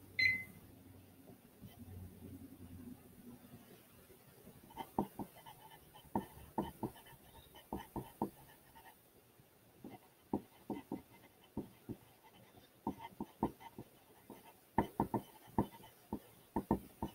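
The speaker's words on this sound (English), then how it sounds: "You will have 1 minute to write your claim, right?" Pencil scratching on paper during a timed writing exercise in a classroom: quiet room tone at first, then repeated short strokes and scribbles in irregular bursts, close and fairly faint, with no talking.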